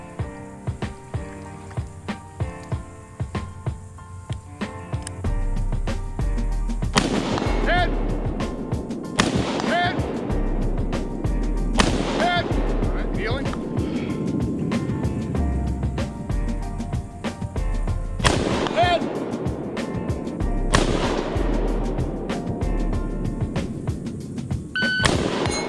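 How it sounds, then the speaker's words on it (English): Rifle shots on a timed shooting range course fired from standing and kneeling positions: about six sharp reports spaced a few seconds apart, with people talking throughout. "load your rifle. You can walk while you're doing it. Don't take your shot until you get to that cone."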